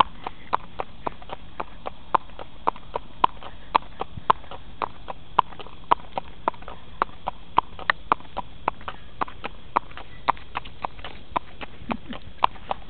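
Hooves of a mustang named Dobe clip-clopping on pavement while being ridden through town, a steady, even walking rhythm of sharp clear hoofbeats heard close up for the whole stretch.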